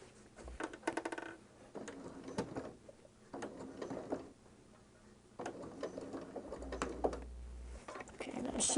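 Sewing machine stitching through fabric in short, quiet mechanical bursts of rapid needle chatter, separated by pauses, with someone speaking softly in between.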